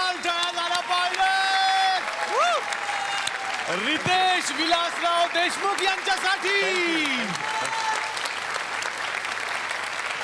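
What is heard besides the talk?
audience applause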